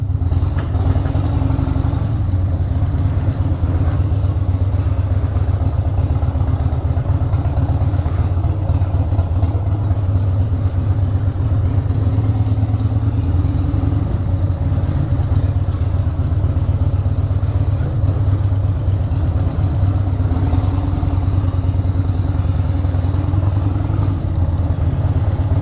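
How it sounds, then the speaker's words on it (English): Harley Davidson XR 1200 motorcycle engine idling, a loud continuous low throb with a steady mechanical clatter throughout, close and unbroken. "There's Clint Lauren's Harley Davidson XR 1200."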